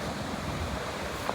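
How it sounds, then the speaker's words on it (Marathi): Sea waves wash onto a beach in a steady, broadband roar with wind buffeting the microphone, continuous and fairly close, with no voices. "हा बघा समुद्र किनारा."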